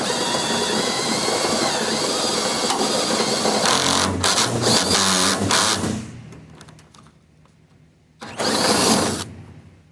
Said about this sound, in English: And finalize the 3/4 inch hole.